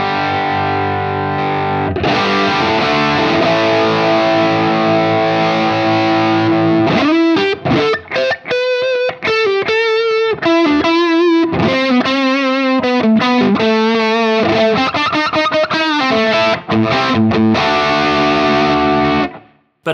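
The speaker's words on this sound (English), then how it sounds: "gives us a very full-on featured overdrive distortion" Electric guitar, a Telecaster, played through an Old Blood Noise Endeavors Fault V2 overdrive and distortion pedal: a long sustained chord rings out, then choppy palm-muted riffs and single-note runs, loud, saturated and continuous to the end.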